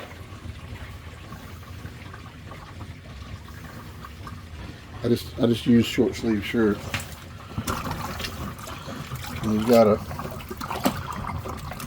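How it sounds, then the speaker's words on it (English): A compact RV washing machine drains water with a low gurgling trickle and bubbling that swells midway. Someone talks over it at times. "now what we're going to do is we're going to just basically turn to drain. Yep, draining the water"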